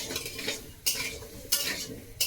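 Water lily stems and turmeric are stirred in a metal pan, with three sharp scraping sweeps of the spoon against the pan over a soft background sizzle, close by.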